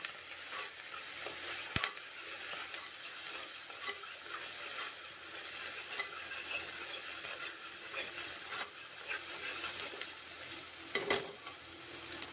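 Ginger garlic paste frying in a pan for a broad bean curry, a steady soft sizzle with occasional scraping stirs and faint clinks, close and fairly quiet.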